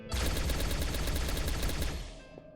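Rapid automatic gunfire from guns in the video game Deadly Threat, a loud dense burst of repeated shots lasting about two seconds before cutting off abruptly.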